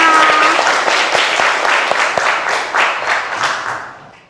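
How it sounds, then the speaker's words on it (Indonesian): A classroom of students claps together for a few seconds, brisk and fairly close, with a voice over the start before the clapping fades out. "tepuk tangan untuk kita semua"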